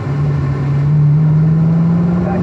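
A Corvette Z06 on a race track gives a short burst of power out of a corner apex, its engine note droning loud and steady and rising slightly in pitch as it pulls, heard from close by with no speech.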